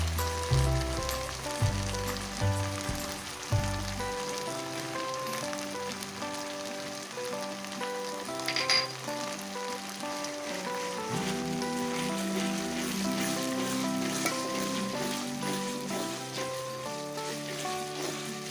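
Garlic paste sizzles steadily in a hot frying pan while tomato pickle cooks, a continuous broadband hiss under soft background music with a brief bright spike midway.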